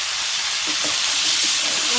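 Vegetables fry with green chillies and turmeric for a fish curry, giving a loud, close, steady sizzling hiss with faint stirring movements underneath.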